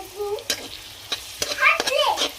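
Onion, crushed garlic, curry leaves and finely chopped green chilli sauté in hot oil, with soft frying crackle broken by a few sharp scrapes of a spoon stirring the pan.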